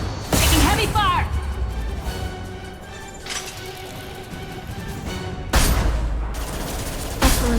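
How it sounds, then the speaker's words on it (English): Gunfire in the video game Mass Effect 2 comes as a few sharp, loud volleys with whooshing effects between them. Voices from the game can be heard between the shots. "Taking heavy fire!"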